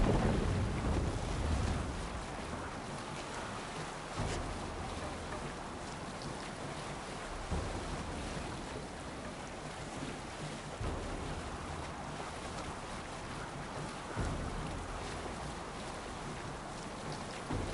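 Sailing ship at sea in Assassin's Creed Valhalla, a steady wash of waves, wind and creaking hull running continuously at moderate level, with periodic swells of water noise and no talk.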